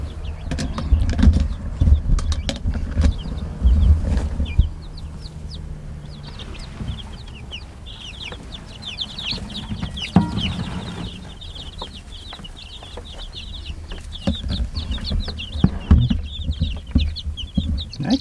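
Newly arrived fall chicks fill the space with a constant chorus of high, rapid cheeping, mixed with soft low clucks and some handling bumps nearby.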